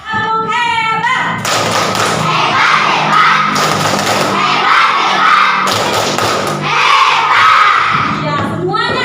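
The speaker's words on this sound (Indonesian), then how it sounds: "Yuk, sama-sama kita tepuk hebat." A fifth-grade primary school class does a rhythmic group clapping chant, loud bursts of clapping and thumping in a patterned beat, with children chanting and shouting along and an adult voice at the start and end.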